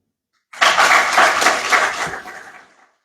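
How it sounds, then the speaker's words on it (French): Audience at an international media-education conference applauding the adopted recommendations: a brief, loud burst of clapping that starts abruptly, holds for about two seconds, then tapers off. "on en applaudit à nouveau."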